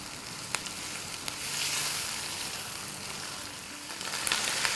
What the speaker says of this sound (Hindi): अब इसमें हम डालेंगे 1 टेबलस्पून लहसुन का पेस्ट और 1 टेबलस्पून अदरक का पेस्ट। अब इसके साथ भूनेंगे।